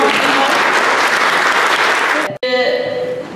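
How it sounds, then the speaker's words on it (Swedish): Loud, dense applause from the audience at a parliamentary seminar, sustained clapping that cuts off abruptly near the end, followed by brief tonal sound. "Ska vi ge dem en fin liten applåd som avgående?"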